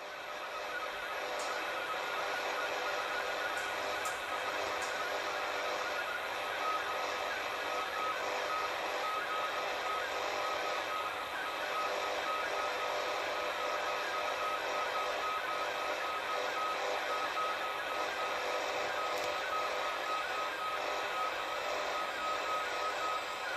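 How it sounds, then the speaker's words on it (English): A VOA Radiogram digital image transmission picked up on a radio plays as a steady, continuous warble of data tones buried in heavy hiss and static, unbroken for the whole stretch. "Let's have a listen to what the transmission sounds like"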